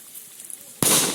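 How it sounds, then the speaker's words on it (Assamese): A firecracker bursts in a village during Bohag Bihu celebrations near cattle, one sharp loud bang landing after a quiet stretch and trailing off in a brief noisy decay. "ইয়াত ফটকা ফুটালে দেখিছেনে"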